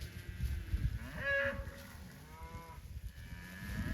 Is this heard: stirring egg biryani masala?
no